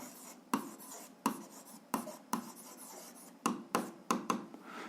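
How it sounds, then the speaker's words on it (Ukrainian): Pen or marker strokes on paper while drawing the graph of a straight-line function by hand, a string of short, distinct scratchy strokes of varying length, close and fairly quiet. "пишемо графік"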